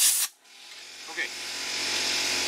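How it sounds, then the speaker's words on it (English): An air compressor in a shaving-brush workshop hums steadily and grows slightly louder, with a brief rustling noise at the very start and a small knock partway through. "let me wait for the compressor"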